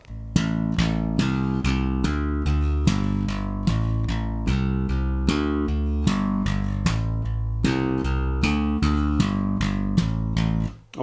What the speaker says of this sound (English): we'll introduce the double thumb technique by playing eighth notes.